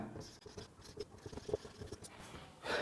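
A pen writing out a sentence, with soft scratchy strokes in short bursts, fairly faint and close, with no talking over it.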